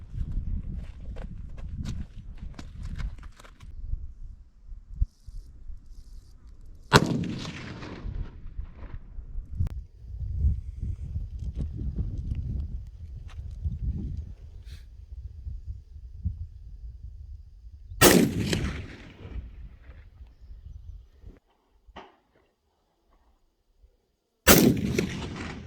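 Loud, sharp rifle shots from a Ruger American .308 fired at a range during zeroing, three distinct cracks spread over about twenty-five seconds, with rumbling handling noise and movement between them.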